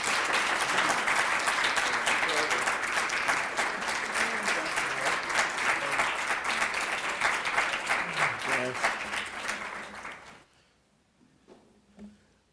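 Warm audience applause welcomes Delano Lewis, former U.S. ambassador to South Africa, at a Boston College School of Social Work event. It stays dense and sustained for about ten seconds, then tapers off to near silence with a few stray claps.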